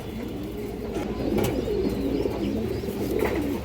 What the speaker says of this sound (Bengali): হাই কোয়ালিটির এক পেয়ার খরা গলা কবুতর আছে মাশাআল্লাহ